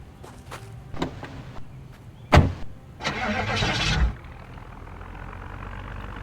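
A car in the video game Project Zomboid heard at close range: engine noise and a few sharp thuds, then a roughly one-second burst of louder engine or driving noise, settling into a steady low rumble.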